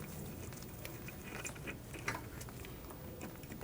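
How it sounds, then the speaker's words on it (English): A wrench tightens the bolt on the back of a rear brake caliper on a 1994–2004 Jeep Grand Cherokee, giving quiet metallic ratcheting clicks and light mechanical rattles close by. "Go ahead and tighten up that bolt on the back side."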